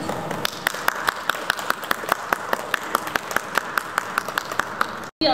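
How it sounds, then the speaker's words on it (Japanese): Audience applause at a street piano performance, a steady patter of scattered hand claps from a modest crowd that continues evenly for about five seconds, then stops abruptly. "大きな拍手をお願いいたします。"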